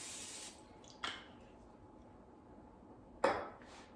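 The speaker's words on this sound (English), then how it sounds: "now I'm going to spray them, the inside of the muffin cups, with a non-stick cooking spray" Two short hissing bursts of non-stick cooking spray go into the inside of silicone air fryer muffin cups, each a brief, fairly close spritz separated by a quiet pause, with no talking.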